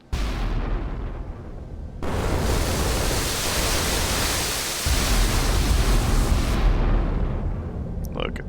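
A warship gun salvo firing in the Sea Power naval game, heard as loud broadband roaring blasts, with a second heavy burst midway, each leaving a long rumbling noise tail.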